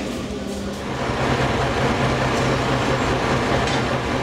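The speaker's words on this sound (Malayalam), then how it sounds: "കാത്തുനിൽക്കെ 6-ാം പ്ലാറ്റ്ഫോമിലേക്ക് ഒരു ട്രെയിനെത്തി." A train pulls into platform 6 of a railway station in Romania, its steady low rumble and rolling wheel noise continuous and fairly loud throughout, with a faint hum of the station around it.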